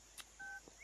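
Telephone dialing tones sound faintly as a few short keypad beeps in quick succession, one slightly longer than the others, under a quiet room background with no talking.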